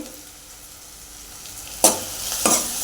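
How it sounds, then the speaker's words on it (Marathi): Homemade Solapuri black masala with onion, tomato and coriander frying on low heat for a dried-fish (sukat) curry, a soft steady sizzle broken by two sharp stirring scrapes near the end, close by. "मसाला टाकला आपण एखादं मिनिटभर परतून घ्यायचा आहे"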